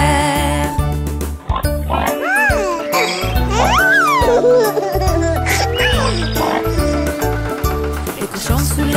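French children's song about wheels on a tractor, with pig oinks among the animal verses; singers imitate the grunting "groin groin" over a steady, loud musical backing.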